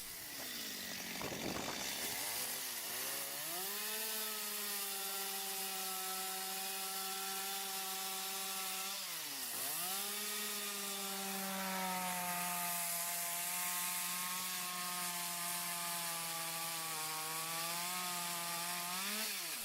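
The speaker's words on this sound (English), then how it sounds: "The saw moves along chalk lines that guide every section." Chainsaw cutting through dense Karelian pine logs for traditional wooden house construction, a steady high whine that dips sharply as the blade bites, then holds a long even drone with no voices.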